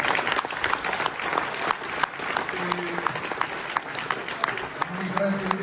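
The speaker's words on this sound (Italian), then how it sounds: "Un applauso anche a lui." Audience applause at a boxing event, a steady wash of clapping from a crowd, loud and close, with a voice speaking over it.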